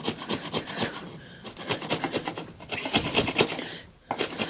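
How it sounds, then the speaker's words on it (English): Steel chisel scraping squeezed-out excess glue off a wooden joint outdoors in a garden allotment, a steady run of close, rasping strokes with brief pauses between them. "if any excess squirts out like it does there, you just get a chisel and you just scrape it off"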